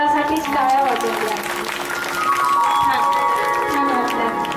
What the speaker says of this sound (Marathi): एकदा जोरदार टाळ्या, स्वतःसाठीच टाळ्या वाजवल्या.